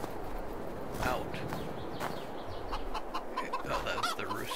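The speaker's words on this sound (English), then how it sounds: "Oh, that was the rooster." A rooster clucks several times amid snowy farmyard ambience in the Farming Simulator 22 video game, the short calls sitting in the mid-distance over a steady background hum.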